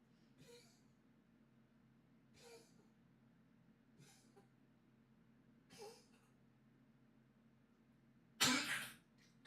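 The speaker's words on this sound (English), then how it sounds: "my dog has chronic bronchitis. She's medicated, but she still coughs sometimes." Four soft, spaced coughs from a dog with chronic bronchitis in a quiet room, followed by one louder, harsher cough near the end.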